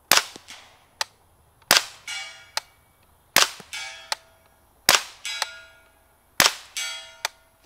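AR-15 rifle fitted with a Dead Air Sierra 5 suppressor fires five suppressed shots a second or so apart, each followed by a bright metallic ring as the bullet strikes a steel target, with no talking.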